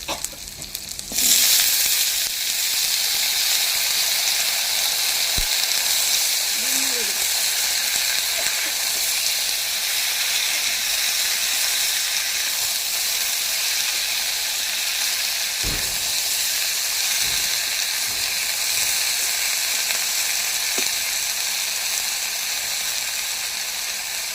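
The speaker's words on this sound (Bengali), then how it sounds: "ভাজা হয়ে গেছে এবার সবজিটা দিয়ে দেবো" Potato and snake gourd pieces frying in a pan with tomato make a sustained hiss that starts abruptly and runs throughout. Occasional sharp clacks of a utensil against the pan break through the sizzle.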